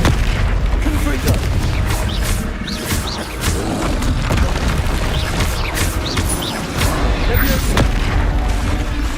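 Spell explosions and blasts in the game Hogwarts Legacy, dense booming impacts and crashes one after another under a steady roar of combat, with a voice calling out a spell.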